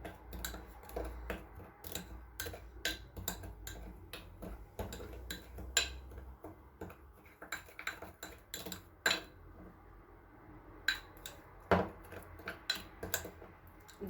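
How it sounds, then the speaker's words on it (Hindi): Red chili, salt and garlic powder stirred together in a bowl with a spoon, giving a run of light clinking and scraping taps, quick and irregular, close up and fairly quiet with no talk. "सुरख मिर्च, नमक, लहसुन पाउडर। इन्हें अच्छे से मिक्स कर लेंगे।"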